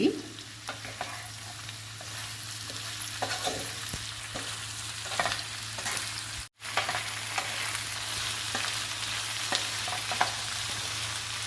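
Ivy gourd pieces stir-frying in a pan, a steady loud sizzle with repeated scraping stirs running throughout, briefly cut off once midway.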